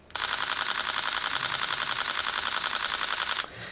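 A Sony A6000 camera shutter fires in rapid burst mode at about 11 frames per second, a fast, even, mechanical rattle of clicks that runs for over three seconds and then stops abruptly.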